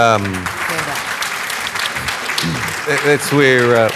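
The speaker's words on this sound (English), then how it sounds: "that feels good getting a bit of applause for that" Brief burst of audience applause at a panel discussion on te reo, mixed with speaking voices that continue over and after the clapping.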